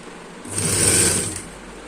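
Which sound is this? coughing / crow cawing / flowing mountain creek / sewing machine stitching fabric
sewing machine stitching fabric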